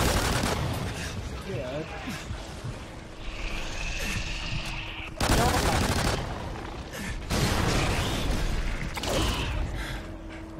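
Alien gunfire in the NightFall video game, with bursts of rapid shots and mechanical clatter, some loud and close, over game music, while a player speaks briefly.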